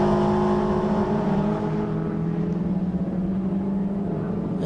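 A Toyota MR2 race car's engine drones steadily at high revs during a championship race at Snetterton, a loud continuous onboard hum with no talk over it.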